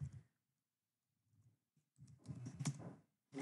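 Soft keystrokes sound on a computer keyboard as a username and password are entered: a few sparse taps, then a denser quick burst of typing, close and quiet.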